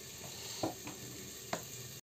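Pieces of red amaranth bari frying in a few drops of hot oil in a kadhai; a soft, steady sizzle with two brief louder crackles as pieces are stirred, cut off abruptly.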